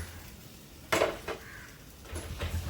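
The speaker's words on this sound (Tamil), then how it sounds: "இப்போது இந்த வதக்கி வச்சுருக்கிற கத்திரிக்காயை போட்டுக்குவோம்" Sautéed eggplant tipped into a pan and stirred, giving a couple of sharp metallic clatters of spoon on pan with softer scraping between them, close up and without talk.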